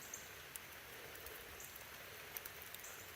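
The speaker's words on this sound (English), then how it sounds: "the rain's kind of calming down" Light rain falls outdoors during a search for Missouri agates, a faint, even patter with scattered sharper drop ticks, easing off and heard alone.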